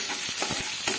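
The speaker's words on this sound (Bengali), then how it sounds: "এবারে মিডিয়াম ফ্লেমে রেখে পেঁয়াজটাকে আমি ভাজতে থাকবো" Sliced onion frying in salted oil over a medium flame, a close steady sizzle broken by a few stirring scrapes in the pan, with no talking.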